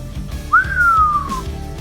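A single rising-then-falling whistle from Wiro Sableng, held for about a second over a low background music bed, clear and close.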